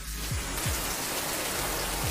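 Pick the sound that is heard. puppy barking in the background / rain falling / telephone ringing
rain falling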